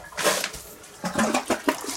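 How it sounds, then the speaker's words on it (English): A dual flush toilet in a house under renovation flushes with short, close bursts of rushing water, loud and choppy over about two seconds. "So, swanky double flusher."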